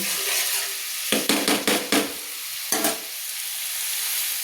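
Oil sizzles softly as onion paste fries, broken by a quick series of sharp scraping stirs, then another pair of scrapes before the hiss settles.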